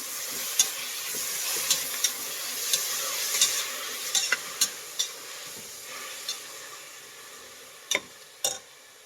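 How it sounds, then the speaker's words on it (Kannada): Chopped fenugreek leaves being stirred into pulao frying in a pan: repeated scraping and stirring strokes over a steady low sizzle, close by with no talking. "ಮೆಂತ್ಯ ಸೊಪ್ಪು ಹಾಕ್ತಾ ಇದ್ದೀನಿ. ಮಿಕ್ಸ್ ಮಾಡಿ"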